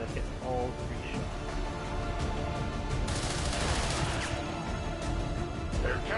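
Game gunfire in XCOM 2, a burst of rapid shots mid-clip over a steady bed of music and ambience, with short vocal snippets at the edges.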